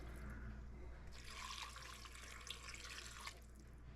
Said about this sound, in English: So I'm going to add 2 pints of water